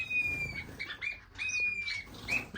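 Small captive finches, diamond firetails among waxbill-family birds in an indoor bird room, give thin, high, sustained whistling calls repeated several times over soft background chatter and rustling.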